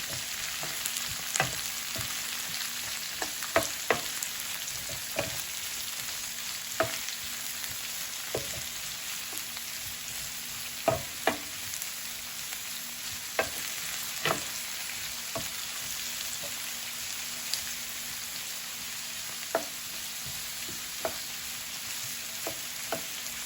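Mushrooms frying in a pan for a cabbage stir fry, giving a steady, even sizzle throughout, dotted with occasional sharp pops and crackles and a few light utensil taps, close and continuous with no voices.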